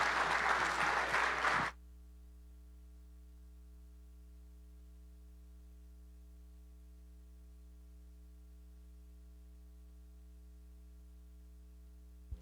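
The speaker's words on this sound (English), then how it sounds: "So if we could all have a big round of applause for Darrel to come up and speak." Audience applause welcoming speaker Darrel Ray at a talk, a dense burst of clapping for under two seconds that cuts off abruptly, leaving only a steady electrical mains hum and faint static for the rest.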